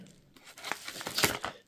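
A parcel from an online order, holding lure boxes, is torn open in a few quick rips and crinkles of packaging. The sounds are quiet, close and come in short bursts with no speech.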